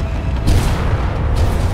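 An explosion in the Space Engineers video game: a deep, loud boom followed by rumbling low bursts over a couple of seconds.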